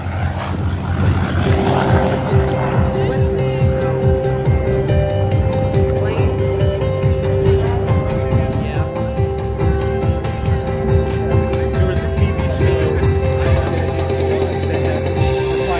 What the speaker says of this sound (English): here comes the F4U Corsair Korean War Hero.